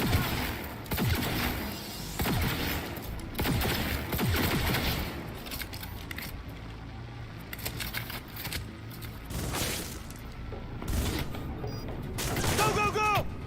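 Rapid bursts of automatic gunfire in a Cyberpunk 2077 firefight, loud and close, with repeated volleys throughout, crackling impacts and shouted voices between the shots.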